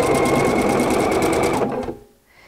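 A PFAFF Creative Icon sewing machine stitches with a fast, steady whirring rattle, then stops abruptly and winds down to quiet.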